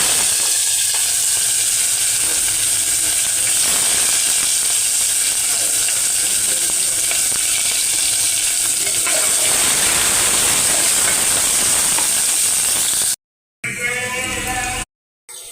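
Chopped onions fry in a pan after mustard seeds and cumin have spluttered, a steady loud sizzle for most of the time, then brief cut-offs near the end.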